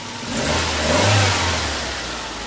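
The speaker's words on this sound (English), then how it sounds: "It's only a slight misfire, but it is there." A Nissan Sentra GXE engine with a slight misfire runs steadily up close, its low drone swelling briefly mid-clip and then easing back, with no voices present.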